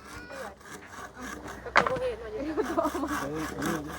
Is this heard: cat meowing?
no